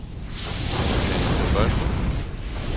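Fire Burst power from the fire loadout in DC Universe Online, a steady roaring blast of flame and explosive rumble sustained for nearly three seconds, loud and dense with a faint rising whoosh midway.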